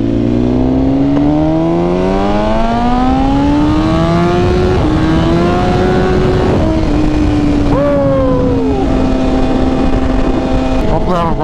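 A BMW M1000RR and a Ducati Panigale V4 Speciale accelerate hard in a couple of pulls, loud rising engine wails climbing through the gears with quick shift dips, close up under constant wind roar.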